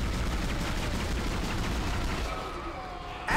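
Rapid gunfire from the Dead Space video game rattles continuously and loudly, a dense stream of shots that thins out near the end before a sharp burst.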